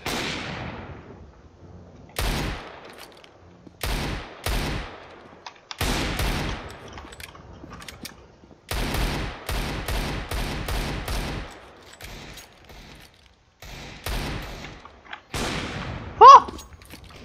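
Gunfire in Counter-Strike: Global Offensive, loud bursts of rapid shots separated by short gaps, some single cracks and some sustained volleys, with a brief tonal blip near the end.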